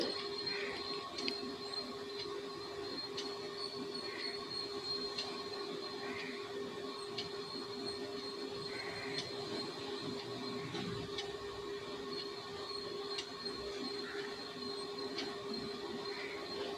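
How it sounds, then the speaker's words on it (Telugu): A sewing machine stitches a cotton kurti with a steady mechanical whir and regular faint ticking, running continuously and fairly quiet, with no talk. "ఇప్పుడు మనం బాడీ మెజర్మెంట్ని బట్టి ఇలా స్టిచ్ వేసుకోవాలి"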